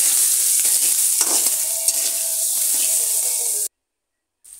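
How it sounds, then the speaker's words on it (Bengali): Chopped onions frying in oil in a pan for an egg and bitter gourd fry, a loud close crackling sizzle with occasional stirring scrapes, stopping abruptly into silence before a brief return. "পেঁয়াজ কুচি কিছুক্ষণ তেলের মধ্যে ভেজে নেব"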